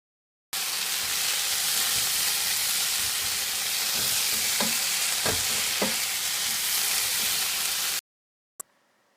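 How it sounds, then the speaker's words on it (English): Vegetables and bean sprouts stir-frying in sesame oil, a steady close sizzle and hiss lasting about eight seconds, with a few brief clatters of stirring near the end before it cuts off. "Now I'm going to quickly stir fry these in some sesame oil. Also add in some bean sprouts."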